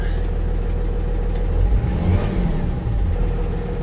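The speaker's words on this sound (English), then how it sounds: "Go ahead and we'll rev it up a little bit." A 2016 Cummins ISB 6.7 diesel engine salvaged from a bus is revved, the low idle rumble rising into a brief throttle surge midway before settling back, loud and close.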